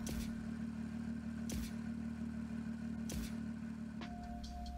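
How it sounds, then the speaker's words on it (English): Rocket League's standard zero-boost effect sounds over a droning car engine idle: short hissing puffs repeat about every one and a half seconds, and a brief tone rises near the end. "which is the sound that plays when you press the boost button but your tank is empty."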